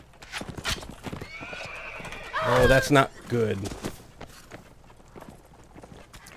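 A horse in the video game Mount & Blade: Warband, rapid hoofbeats under a loud, drawn-out neigh and a second shorter whinny, with a voice speaking briefly.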